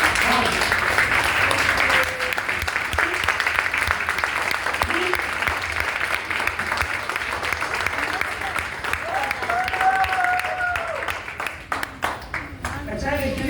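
A seminar audience breaks into loud, sustained applause, a dense wash of many hands clapping that runs unbroken from start to finish, with a few voices faintly mixed in.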